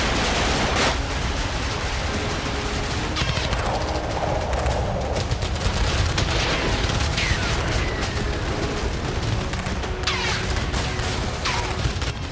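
Gunfire and explosions during a Hezbollah guerrilla ambush on an IDF ground team near Kiryat Shmona by the Lebanon border. Dense, continuous rattling shots are broken by sharp cracks and booms, loud and chaotic throughout, with no talk.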